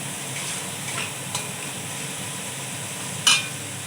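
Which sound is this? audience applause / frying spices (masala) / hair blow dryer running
frying spices (masala)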